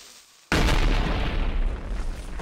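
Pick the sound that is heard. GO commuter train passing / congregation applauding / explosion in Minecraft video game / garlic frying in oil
explosion in Minecraft video game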